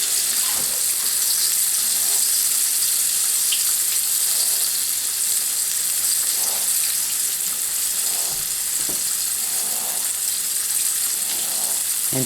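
Pork chops brown in a hot pan with a steady, close sizzle and crackle that holds evenly throughout, broken by a few faint pops and clinks, with no talking.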